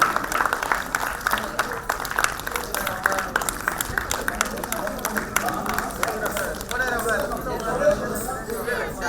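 An audience applauds at an awards presentation in Chennai, with steady, moderately loud clapping running throughout. Chatter and voices mix in underneath, and a voice becomes more noticeable toward the end.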